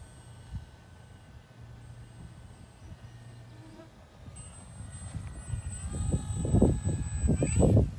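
An E-flite M7 Maule 1500 mm RC model airplane flies overhead with a thin, steady high motor whine, and voices talk throughout as the flyer is coached.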